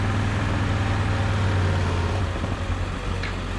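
A Yamaha Grizzly 450 4x4 ATV, a barn find, runs with its choke on, giving a steady low rumbling idle with no talk over it.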